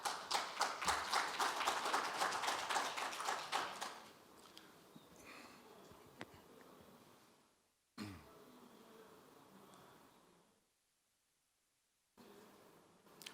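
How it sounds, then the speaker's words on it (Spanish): Conference audience at a technical mining-economics session gives a short round of applause that fades after a few seconds into quiet room sounds with scattered coughs and small knocks. "Un fuerte aplauso para él, por favor."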